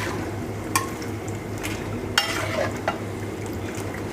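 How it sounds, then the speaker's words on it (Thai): Food is lifted out of hot frying oil in a pan, with steady sizzling and a few sharp clinks of a utensil against the pan. "พอมันเหลืองได้ที่เราก็ตักครับผมตักขึ้น"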